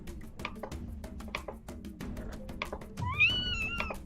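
A cat lets out a single drawn-out meow with rising pitch near the end, heard over a low room rumble and scattered knocks.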